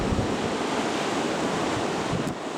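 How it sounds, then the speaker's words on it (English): Ocean waves surge and wash onto the shore at Blackpool, a constant broad roar of surf mixed with wind buffeting the microphone, steady and fairly loud with no voices. "I think that was just the waves crashing up."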